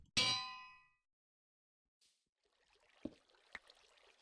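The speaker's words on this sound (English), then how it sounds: "Maybe we can put the bell down, pick it back up, and that might get it." A bright metallic clang from a bell in the Minecraft video game, struck once and ringing out, followed by a faint blip and two soft clicks as it is placed and picked back up over quiet ambience.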